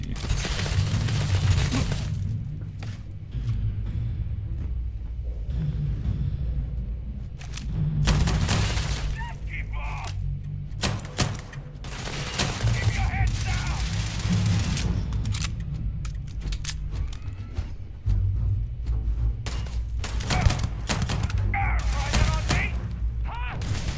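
Starfield combat with repeated bursts of gunfire and heavy booming impacts across a long fight, loud and close, with voices talking between volleys.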